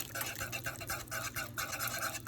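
Fast, steady whisking of a cheese sauce with melting cheese in a pot, the whisk scraping the edges and bottom in a quick, even rhythm of repeated strokes, close and fairly loud with no talk.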